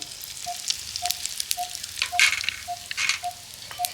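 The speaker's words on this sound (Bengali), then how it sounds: "তো এবার প্রথমেই আমি তেলের মধ্যে দিয়ে দিচ্ছি হিং" Asafoetida dropped into hot oil in a kadai over a very low flame for raw mango pickle, giving a light crackling sizzle with scattered pops and faint clinks, close by and without voices.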